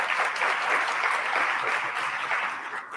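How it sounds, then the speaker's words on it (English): Sustained clapping from an audience, steady and fairly loud for the full stretch before slowly tapering. "right here, give her applause."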